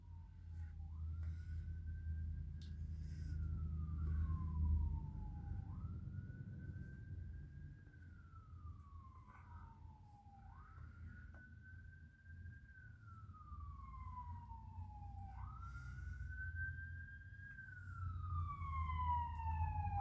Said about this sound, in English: There's the siren again